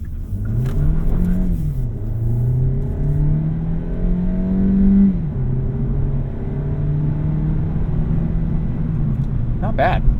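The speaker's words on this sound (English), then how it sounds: "Give it a little bit of an acceleration here out of a dig." A 2025 Hyundai Elantra Hybrid Limited accelerates, its engine tone rising and falling through the revs with a steady road rumble beneath, close and moderately loud, with a brief dip around a shift midway.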